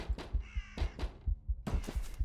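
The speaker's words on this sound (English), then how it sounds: "The raven. Where are you flying, you crazy bird?" A raven in a forest giving several harsh, loud caws in quick succession, close by and sounding alone.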